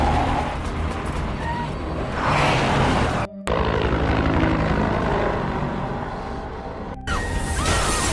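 Helicopter noise from the film The Crazies, a loud, dense rotor and engine roar with a cut midway and a second abrupt break toward the end, mixed with other film sound.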